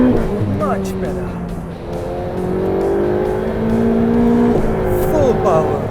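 Ferrari 488 Pista engine on a race track, loud revving that climbs through the gears with sharp shift changes and tire noise, someone talking over the engine throughout.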